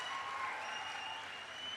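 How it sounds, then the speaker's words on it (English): An audience at a live conversation event applauds steadily, a dense, even wash of clapping from many hands that holds at full strength without a break. "Round of applause, guys, for that."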